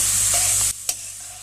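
Turmeric and dried chili powder fry with a splash of water in a hot pan, giving a short bright sizzle with stirring that cuts off quickly, followed by a single faint clink.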